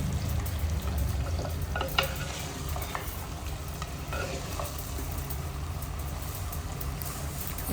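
Desi chicken with green chillies fries in a pan, giving a continuous close sizzle while a spoon stirs it with occasional scrapes and clinks. No one talks.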